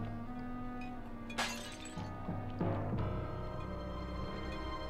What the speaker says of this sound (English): I hear clinking.